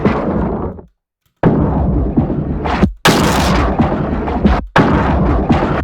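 Explosive impacts built from paper source recordings and low-pass filtered, giving a series of dense, rumbling booms with heavy low end, broken by short gaps of silence, loud and close with no voices.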